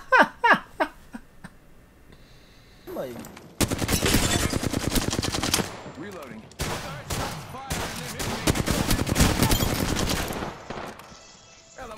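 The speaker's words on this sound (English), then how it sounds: "I'm using the Volt. I missed every single shot." Volt gun firing in the Apex Legends video game, with long rapid automatic bursts separated by short pauses, after brief chatter and laughter at the start.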